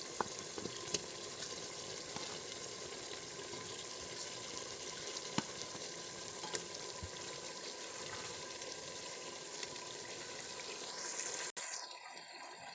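Chopped tomatoes frying in a pan of Assamese chicken curry, giving a steady close sizzle with faint stirring clicks throughout and a brief scrape near the end.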